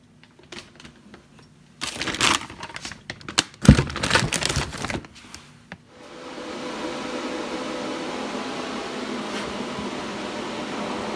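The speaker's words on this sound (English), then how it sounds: "got the machine running, and the one thing I don't like about it right off the hop is how loud it is" A PrimeWeld 225X welder powers up and its cooling fan settles into a loud, steady whooshing roar, following a burst of clattering handling noises.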